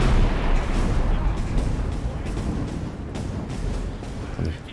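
Meteors crashing down in the video game Skyrim, a dense barrage of booming impacts and crackling blasts that rumble continuously, loud and close, for several seconds.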